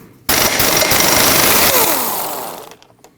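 An impact wrench rattles loose the 32mm rear axle nut on a 2003-2008 Subaru Forester, one loud, continuous burst of hammering lasting about two and a half seconds before it tails off.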